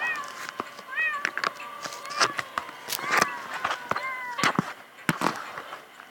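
Several cats meow repeatedly in a cat simulator video game, the rising and falling cries overlapping at close range amid scattered clicks and thumps from in-game havoc.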